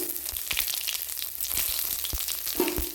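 Kasuri methi and cumin seeds fry in hot oil in which sugar has been caramelised, giving a steady close sizzle with a few soft stirring knocks and no voices.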